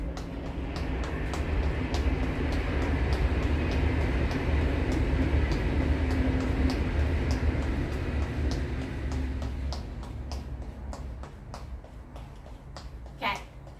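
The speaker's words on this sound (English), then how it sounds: "Here comes the train." A train rumbles steadily past at close range for most of the stretch, its broad roar thinning out toward the end, with sharp rhythmic clicks from the wheels over rail joints and a louder clack just before it fades.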